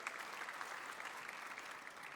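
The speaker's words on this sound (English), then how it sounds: "a warm applause for my panelists" Steady applause from a conference audience greeting panelists at a tech forum on AI, smart cities and data-driven sustainability, a dense even wash of many hands clapping throughout, moderately distant and with no one talking over it.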